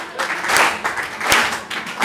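An audience at a Hindi comedy poetry show claps in uneven swelling bursts of applause, with a few sharper individual claps standing out.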